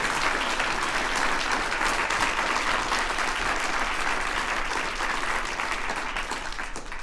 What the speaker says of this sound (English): Let's do one more round of applause for all those folks